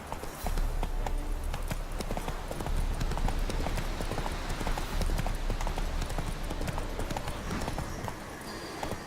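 Horse Roach's hooves clip-clop in a steady trot on a road in The Witcher 3, loud and close, with a low game rumble underneath throughout.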